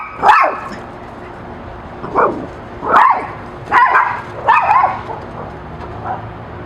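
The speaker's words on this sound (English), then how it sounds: "Dogs will bark." A dog barks close by in a short run of about five sharp barks with yips, spread over several seconds against a steady background hiss.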